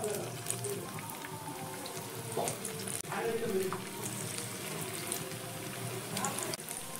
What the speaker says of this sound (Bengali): এবার একে একে আমি যে স্ন্যাক্সটা বানিয়ে রেখেছিলাম তেলের মধ্যে ছেড়ে দিচ্ছি।